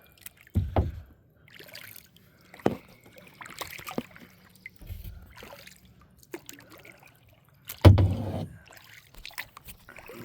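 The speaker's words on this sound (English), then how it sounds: "Trying to paddle with one hand." A boat paddled one-handed on water, with scattered soft splashes and drips at irregular intervals, a stronger splash near the end, close and otherwise quiet.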